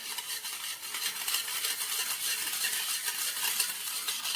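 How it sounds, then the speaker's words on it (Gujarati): Sugar, oil and warm milk are stirred together in a bowl for a pressure-cooker cake, giving a steady, close scraping and swishing that runs without pause and with no voices. "હવે આપણે એને પહેલાં સારી રીતે મિક્સ કરી દેવું કે આપણી ખાંડ છે એ સારી રીતે ઓગળી જાય"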